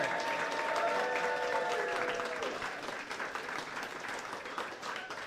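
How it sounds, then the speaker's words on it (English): A crowd applauds with steady, dense clapping that eases off slightly toward the end. "Please give a huge round of applause to Matt Bauer."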